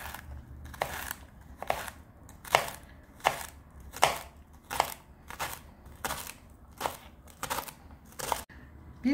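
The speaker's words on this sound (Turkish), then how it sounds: "Yıkayıp temizlemiş olduğum pırasayı bu şekilde 4'e bölüyorum. Daha sonra incecik doğruyoruz." A knife finely slices leek on a cutting board in a steady rhythm of about a dozen crisp, close chops, each a sharp crunching tap against the board, with no voices.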